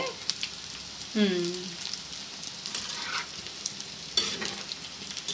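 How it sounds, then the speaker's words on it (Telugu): Egg fritters frying in hot oil until brown, a soft steady sizzle with occasional crackles and stirring scrapes, plus a brief tonal sound partway through. "జాగ్రత్తగా కిందకి పైకి తిప్పుకుంటూ వేపేసుకోవాలి"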